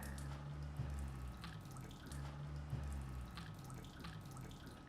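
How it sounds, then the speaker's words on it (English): A magnetic window cleaner is dipped into water, giving soft sloshing and dripping splashes in two faint bursts against a low steady background hum. "Then you just dip this guy in the water."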